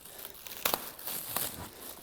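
Saran wrap plastic packaging being torn open, close crinkling and a couple of sharp rips with rustling in between.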